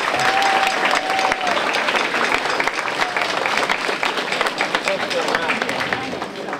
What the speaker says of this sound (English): So if you could give them all a round of applause.